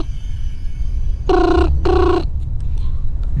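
A mobile phone ringtone rings out twice in clear bursts over a low background rumble, the call going unanswered, with no voices present.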